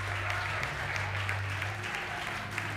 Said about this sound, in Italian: l'applauso generale delle quarte e delle quinte del Salvati prima dell'ultima domanda